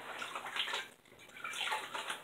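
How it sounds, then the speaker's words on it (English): Water splashes and sloshes in steady bursts as hands wet a face before a shave with a brand-new Feather blade, using warm water from a bowl in a cold bathroom; close and moderately loud, with no talking. "let's get my face wet here"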